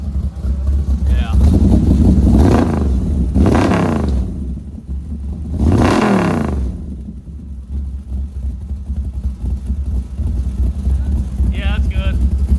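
A car with a new Spintech exhaust and X-pipe idles with a deep, steady rumble and is revved in several surging bursts. People talk over the engine.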